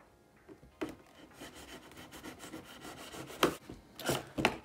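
Soft rubbing, scraping and crinkling handling noises from unboxing a Plantronics RIG 400HS camo gaming headset, close and quiet, with a few sharper rips and snaps of packaging.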